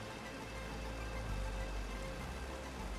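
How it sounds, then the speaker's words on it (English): Steady rain falls in a farming video game, a continuous even hiss of drops with no break and no voices over it. "And here comes the rain."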